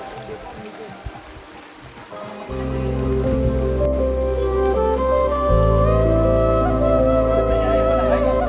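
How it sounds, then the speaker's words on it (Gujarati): Heavy rain pours during a hill trek at Devhatra near Junaraj, Rajpipla, a dense patter heard alone at first and then continuing beneath sustained background music. "થોડી વારમાં બરાબરનો વરસાદ પડવા લાગ્યો"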